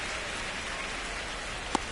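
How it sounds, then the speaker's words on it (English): Steady rain falls on a ballpark in MLB The Show 25, a dense, even patter that holds throughout with one brief faint tick near the end. "This rain is not letting up."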